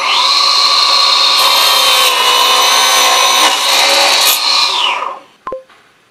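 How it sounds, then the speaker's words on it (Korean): A TICHOP DC9913 angle cutting saw slices through wood at a 45-degree bevel, a loud, steady high whine that runs for about five seconds, then spins down and ends with a sharp clack. "이번에는 베벨각을 45도로 주어서 절단 한번 해보겠습니다"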